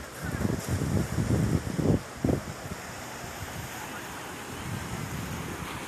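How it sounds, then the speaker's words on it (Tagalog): Waves washing at the shore at low tide with a breezy rush; a few louder thumps early on, then a steady soft surf hiss. "Ito tabing dagat to."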